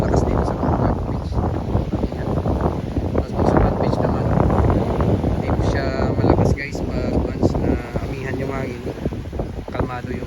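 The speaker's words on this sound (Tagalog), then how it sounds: "Yung malakas na konti yung hangin dito guys sa Bulabog Beach." Strong gusty wind on Bulabog Beach, Boracay, after a storm, buffets the microphone in a steady roar, with surf and faint voices underneath.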